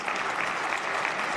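A parliamentary chamber bursts into sustained applause for health workers, many hands clapping densely and evenly at a close, full level.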